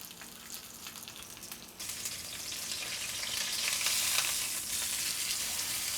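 Steak searing in a hot pan gives a steady, close sizzle that grows louder and denser partway through, rising to a bright crackle with no talk over it.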